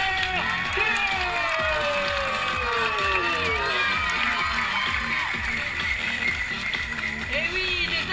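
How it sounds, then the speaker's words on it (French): Spectators at a running race clap and cheer for a finishing runner, a continuous crowd roar under a loud announcer's voice. "des applaudissements nourris et chaleureux"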